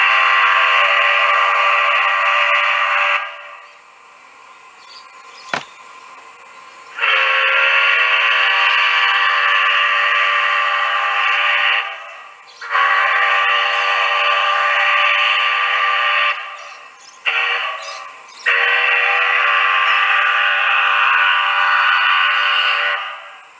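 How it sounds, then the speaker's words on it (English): A Great Northern five-chime steam whistle played through a loudspeaker, loud chord blasts of several seconds each separated by short gaps, with a sharp click partway through. "there's a Great Northern whistle in it there from the WOW"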